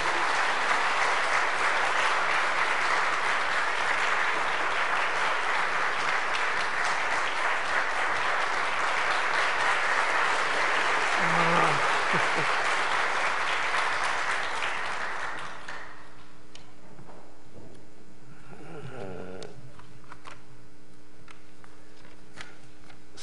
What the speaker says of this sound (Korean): 우리 따뜻한 박수로 이재석 회장님을 단에 모시겠습니다.